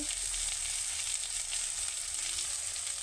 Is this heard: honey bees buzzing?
no